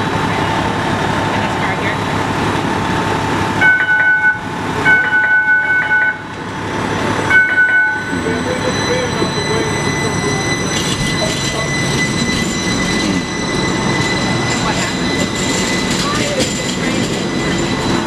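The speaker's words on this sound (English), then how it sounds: "We're going to move the train." A trolley rolls along rails with loud, continuous rumbling and high wheel squeal, broken by several short horn-like toots, while a voice speaks over the din near the start.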